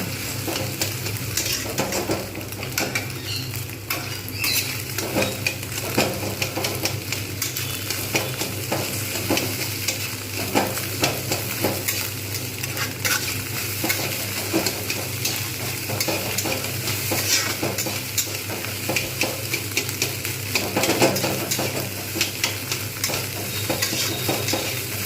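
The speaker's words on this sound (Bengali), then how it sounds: "প্রথমে এই কারণে ডিমটা ভেজে নিচ্ছি" Eggs fry in oil in a pan while mixed fried rice is being made, giving a steady, close, continuous sizzle with faint stirring scrapes throughout and no voices.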